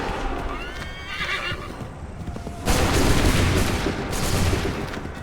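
Musket fire rings out in Assassin's Creed III, loud crackling gunfire breaking out partway through amid horse whinnies and hoofbeats, and a voice shouts over it.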